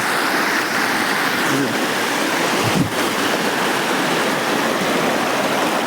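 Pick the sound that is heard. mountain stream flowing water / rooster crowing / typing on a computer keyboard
mountain stream flowing water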